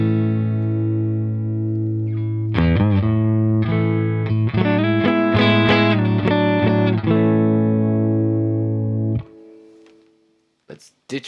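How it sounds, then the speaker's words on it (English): A mahogany Stratocaster rings through the clean channel of a Peavey Bandit 112 amp, with sustained chords and picked notes sounding loud and close for about seven seconds before they cut off, followed by a few faint handling clicks. "So here is the clean channel"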